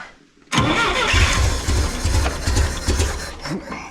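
A small engine with the choke on, just after a spark plug change, cranks and catches abruptly, then runs loud and rough with a pulsing low rumble close to the microphone.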